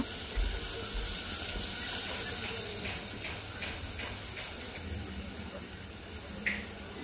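Water is poured into a hot cooking pan of spiced beef liver, making a continuous hissing, rushing wash that holds steady throughout, with a faint sharp tap near the end.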